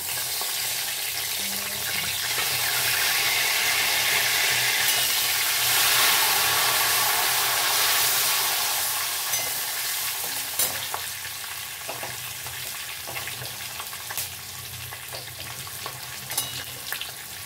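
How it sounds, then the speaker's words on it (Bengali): Whole cumin, cloves, green chilli, small cardamom and cinnamon tempering in hot oil, giving a steady, close, hissing sizzle that swells in the middle and then eases, with faint clinks of stirring. "একটুখানি সাদা জিরে, লবঙ্গ, কাঁচা লঙ্কা, ছোট এলাচ, দারচিনি, এই দিয়ে আমি সম্বরা করে নেব"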